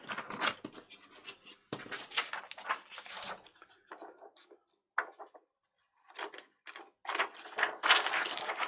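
Scissors cutting paper while a file folder journal is assembled: quiet, close snips come in short irregular bursts, separated by pauses.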